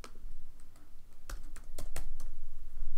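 Fingers type on a computer keyboard during a beginner Python programming lesson, giving a quick run of close, crisp key clicks in short bursts over steady low background noise.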